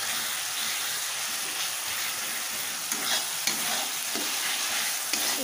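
Vegetables frying in oil in a pan, a steady broadband sizzle with occasional stirring clinks and scrapes, close and continuous throughout, no voices.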